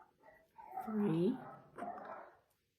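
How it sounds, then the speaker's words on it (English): Dogs bark and whine in the background, a couple of short muffled barks and a yelping whimper, moderately faint against a quiet room. "Forgive the dogs in the background."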